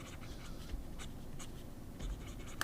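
A Hongdian pocket fountain pen with a fine nib scratches across paper in short, faint strokes, quiet and close, with small taps between the strokes.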